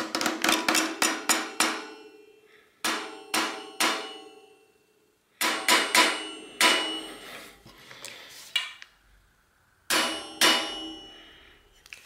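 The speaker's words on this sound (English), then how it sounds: "I have my torque wrench here, so I'm going to tighten this to 40 Newton meters" A torque wrench tightens a bicycle cassette to 40 newton meters during a 7-speed to 10-speed drivetrain upgrade on a cyclocross/gravel bike. Sharp metallic clicks come in close, loud clusters separated by short pauses.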